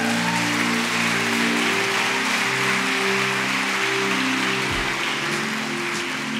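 A congregation applauds during a worship song, dense and continuous clapping that runs unbroken from start to finish, loud and close, laid over sustained low instrumental tones.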